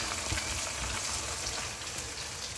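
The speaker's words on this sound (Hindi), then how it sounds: "ये अंडा हमारा इसमें फ्राई हो चुका है।" Egg fries in a hot pan for vegetable rice while being stirred quickly, a loud, dense, unbroken sizzle heard up close throughout.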